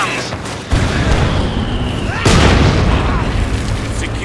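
Infantry gunfire and explosions from Company of Heroes 2 boom loudly and continuously, with heavy blasts and rattling shots in a dense battle din and voices shouting beneath.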